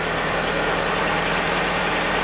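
A 1992 Chevy Cavalier's 2.2-liter engine idles while warming up after a wash, giving a steady, close, unbroken rumble with a faint vibrating pulse and no talking over it.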